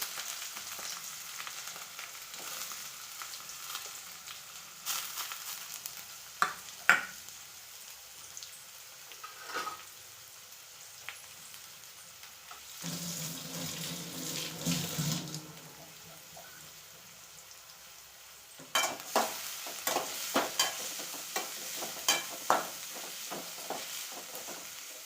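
Three chopped onions fry in a pan of hot oil with curry leaves, giving a steady close sizzle broken by occasional stirring clatter and scraping, with a louder hissing surge midway and no talking.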